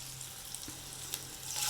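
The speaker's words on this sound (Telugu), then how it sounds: "చూసారు కదా ఇలా పోపు వేసేస్తాం" Spices for tempering crackle and sizzle briefly in hot oil for a curd-based stew, a short close sputter that grows louder toward the end with no talk.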